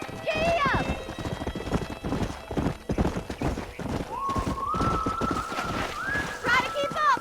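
A horse gallops in Red Dead Redemption, with rapid clip-clop hoofbeats, a whinny and a sustained tonal cue running under a voice urging it on.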